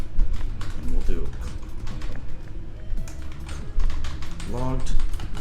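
Code typed quickly on a computer keyboard, with close, irregular clusters of key clicks running throughout, interrupted by short pauses and one louder burst near the end.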